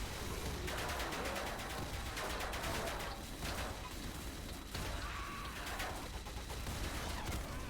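Rapid gunfire rattles in a TF2-style video game, dense bursts of shots coming in loud waves over a constant noisy game mix, with no talking.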